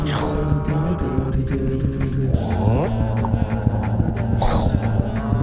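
Vocal mouth sounds imitate video game car engines and effects, with buzzing revs, sliding pitch sweeps and clicky percussive bursts layered together in a busy, continuous stream.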